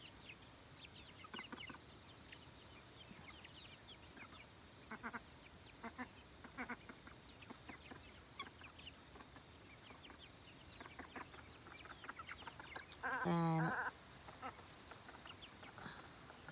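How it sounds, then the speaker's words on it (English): Ducks and chickens on a wet farm with guinea fowl nearby: scattered clucks and quacks near and far, a sharp loud squawk near the end, and a brief word spoken. "so we're farming ducks,"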